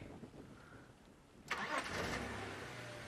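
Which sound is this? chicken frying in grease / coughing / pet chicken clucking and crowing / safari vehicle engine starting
safari vehicle engine starting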